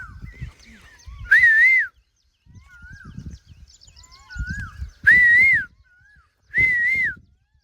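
An Asian koel calling in rain-soaked farm fields, three loud rising whistled calls with gaps between them, over quieter chirps from other birds and faint low background sounds.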